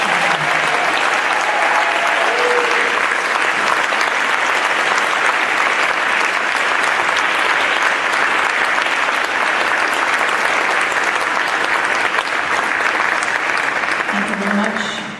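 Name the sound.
audience applause at brass concert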